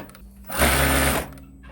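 A high-speed industrial overlock serger in a factory setting whirs in a loud, steady burst lasting under a second, with the surrounding fittings buzzing along, between quieter stretches.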